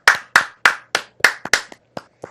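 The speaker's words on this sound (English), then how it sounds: "Round of applause." A small, close round of hand clapping: about eight or nine sharp, separate claps in a loose rhythm, fading toward the end, with no voices.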